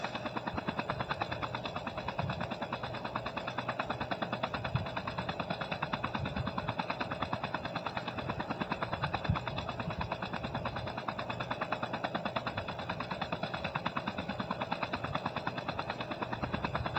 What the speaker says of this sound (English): Look, a chopper. A chopper for free.